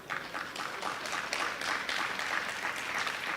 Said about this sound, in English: thank you for clapping, for the single person clapping for me